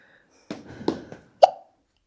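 A person hiccups during a beginner back and shoulder stretching workout. A few soft breathy bursts come first, then one sharp, close hiccup, with quiet in between.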